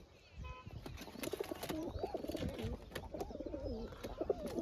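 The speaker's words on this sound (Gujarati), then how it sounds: "મિત્રો જો આ કબૂતર છે" Pigeons perched on a rooftop at dusk give low, rolling coos, several overlapping in a steady rhythm, fairly close, with a few wingbeats and faint background sounds.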